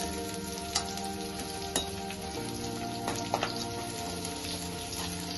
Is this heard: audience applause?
no